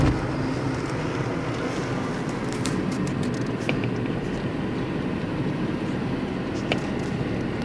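Inside a Tata Tiago petrol car cruising at 100 km/h on wet roads after rain, a steady, loud road and tyre roar fills the cabin, with faint ticks and clicks on top.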